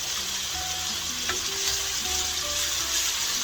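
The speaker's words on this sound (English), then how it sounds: "we still got some more frying to do, and I'm going to start mashing some of this" Steady, crackling sizzle of sausage frying in a hot pan, close and continuous, with a faint scrape or clink partway through.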